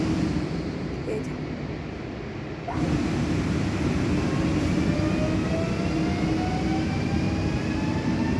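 A train departing Zawiercie station in Poland, with steady loud rolling rumble and faint creaking of wagons as it pulls away, with no talk.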